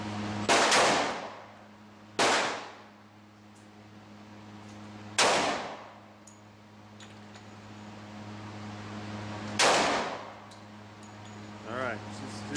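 Four loud 10mm pistol shots from a Glock 20 ring out at an outdoor range, spaced a few seconds apart, each with a sharp crack and a long decaying echo over a steady background drone.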